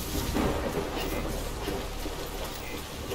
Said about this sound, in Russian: Теперь дождь начинается.